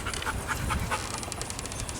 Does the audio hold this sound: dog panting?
yes